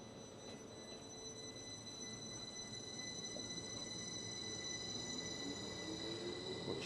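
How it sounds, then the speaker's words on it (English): A train rumbles past steadily in wet weather, a continuous rolling roar with faint wheel squeal rising toward the end, heard over rain-soaked outdoor ambience. "Watch this train go."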